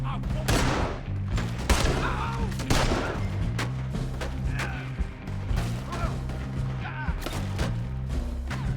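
Rapid gunfire crackles through a Red Dead video game shootout, several sharp shots in quick bursts over a low musical drone, with talk mixed in.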